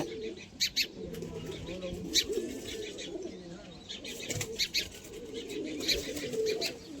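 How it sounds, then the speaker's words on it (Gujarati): Pigeons coo softly nearby while several short bursts of flapping wings break out as they fly up. "જોઈ લ્યો કબૂતર ઉડે"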